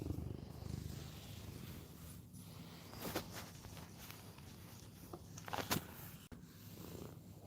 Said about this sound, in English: Gray is the main one you're hearing purring right now.